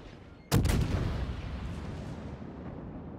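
Naval artillery fire in World of Warships, a single sharp, heavy cannon blast that booms loud and then rolls away in a long fading rumble.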